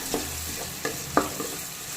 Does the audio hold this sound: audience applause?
no